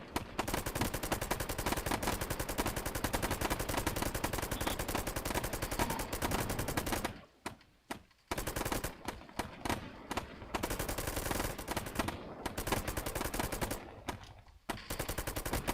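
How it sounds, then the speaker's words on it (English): Dense, continuous automatic gunfire in a multiplayer tactical shooter, loud and sustained with a few short pauses, no talk over it. "Someone shooting at us again?"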